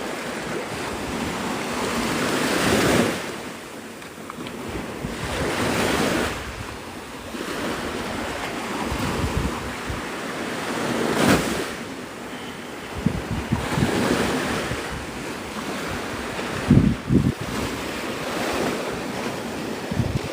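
Ocean waves roll onto the beach at Navarre Beach, Florida, at sunrise, with surges rising and falling every few seconds and steady wind buffeting the microphone throughout.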